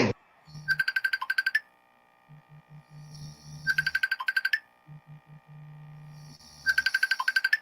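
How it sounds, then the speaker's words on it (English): A phone rings with an incoming call in a family home, three bursts of rapid, bright trilling tones spaced a few seconds apart, with a low electronic buzzing pattern filling the gaps between rings. "you can hear the phone call coming through"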